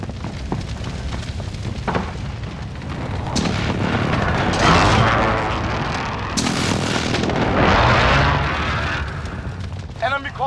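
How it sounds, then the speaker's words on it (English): Heavy explosions from a precision airstrike in Call of Duty Modern Warfare on the Sawmill map, a sustained run of deep booms and rumbling blasts with gunfire, loud and dense, with a voice talking through it. "Friendly precision airstrike on the way."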